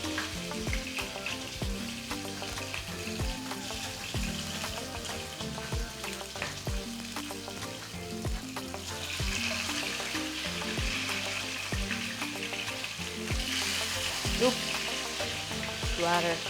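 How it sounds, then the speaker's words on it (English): Steady crackling sizzle of snails frying in hot oil, with occasional louder pops and spatters, close by and without talk. "So here I have my snails frying,"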